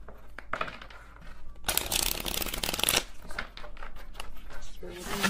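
A tarot deck shuffled by hand, crisp riffling and papery flicks of cards, with a louder dense burst of shuffling in the middle, close and alone without talk.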